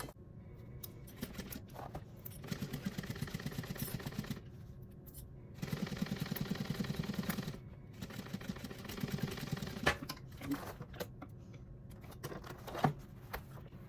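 A sewing machine stitching a purse lining runs in steady whirring bursts, pausing briefly between runs, fairly close and moderately loud with no talking.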